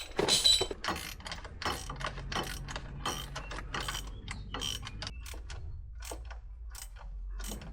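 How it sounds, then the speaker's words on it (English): Ratchet or wrench clicking while bolting a diff guard back onto a Land Rover Defender, quick close-up ratcheting bursts with metallic ticks, fairly quiet, with no talking. "now it's just a question of screwing it back in place"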